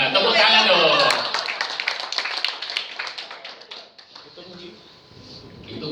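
Audience applause after a call for clapping at an Indonesian property agents' talk, starting strong and full, then thinning into scattered claps under murmuring voices.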